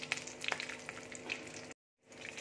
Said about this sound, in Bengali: এবার আমি লবঙ্গ, কালো এলাচ, গোলমরিচ, কাঁচা লঙ্কা দিয়ে দিচ্ছি।